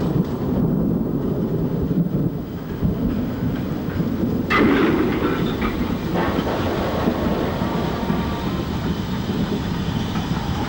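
An LMS Black 5 steam locomotive running on the line, a continuous heavy low rumble and roar with rail noise, steady and loud throughout, no voices.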